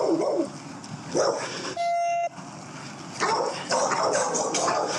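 A dog barks and snarls at police officers during a confrontation outdoors, with loud, close bursts at the start and again in a rougher flurry near the end. A brief electronic beep sounds in between.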